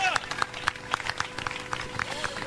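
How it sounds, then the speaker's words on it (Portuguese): A congregation claps for Jesus during a church service, beating out a steady, rhythmic run of hand claps with voices heard over the clapping. "Aplausos para Jesus."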